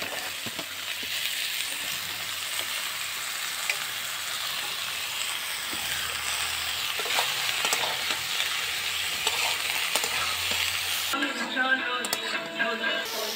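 Potato, beetroot and carrot sizzle and fry steadily in a hot pan, a constant crackling hiss, ending with a brief stir.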